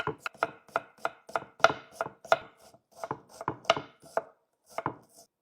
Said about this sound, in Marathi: आपण आता खिमासाठी कांदा कट करून घेऊ।